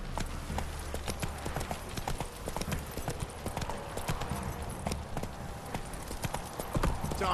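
Hoofbeats of Roach, Geralt's horse in The Witcher 3, galloping steadily in a fast rhythmic clip-clop over a low rumble of game ambience, close and continuous with no speech.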